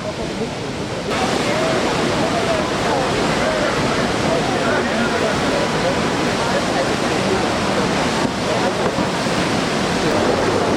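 Rushing water of the Eisbach river surf wave, a loud, constant roaring wash that stays steady and close throughout, with a faint brief shift in texture near the start.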